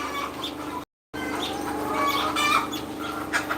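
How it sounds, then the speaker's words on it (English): Many chickens cluck and chatter together nearby, a busy continuous flock sound with occasional higher calls and a short dropout. "lots of chickens"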